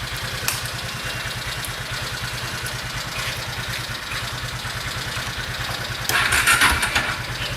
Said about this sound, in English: So let's start our vehicle.